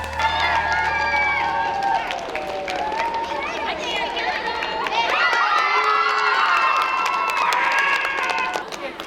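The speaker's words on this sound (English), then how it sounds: "Can you all cheer her on?" Children cheer and shout in a crowd at an elementary school while a teacher pedals a blender bike. Voices stay loud and continuous throughout, with high excited shrieks and chatter layered over the noise.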